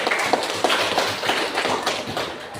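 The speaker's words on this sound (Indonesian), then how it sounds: "Oke, tepuk tangan jawabannya, betul." A classroom of students claps hands in loose, quick bursts, a few sharp slaps standing out, close and fairly loud, with faint voices underneath.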